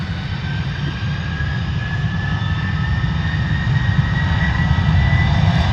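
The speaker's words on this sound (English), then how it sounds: "Here we go, A300 on the move" A DHL Airbus A300 jet taxiing, its engines giving a close, loud low rumble with a steady high whining tone that swells slightly toward the end, alone without talk.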